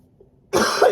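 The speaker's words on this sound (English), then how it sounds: "I'm getting a cough bug going." A single sudden cough bursts out close up from a woman who has a cough bug, loud and rough, lasting about half a second after near silence.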